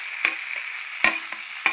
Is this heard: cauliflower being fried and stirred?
yes